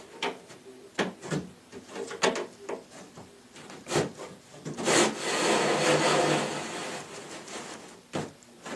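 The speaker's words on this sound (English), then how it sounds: "It should slide in those channels perfectly." Wood rubs and knocks as a corner cabinet panel slides along its channels, a few thumps followed by a longer scraping slide, close by.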